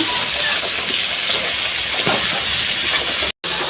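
Taro stalks are added to small fish in a hot pan and give off a loud, steady hiss of sizzling. A few faint clinks come through, and a brief dropout breaks the sound near the end.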